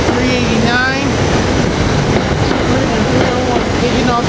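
SEPTA railcars 388, 389 and 301 roll out of 30th Street Station express to Trenton: a loud continuous rumble with thin wheel squeals rising at the start and end, and a voice talking over it.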